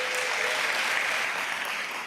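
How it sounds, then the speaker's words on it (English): Steady applause from a large audience at the New York State of the State address in Albany, loud and continuous throughout. "yes, give them applause"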